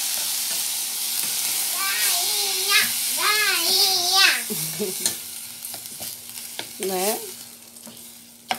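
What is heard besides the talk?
rice poured into a sizzling pan to sauté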